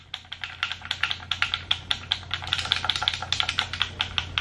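Rapid, light plastic clicking from the D-pad of a white Xbox controller, an uneven run of small taps, close and fairly quiet, with no talking.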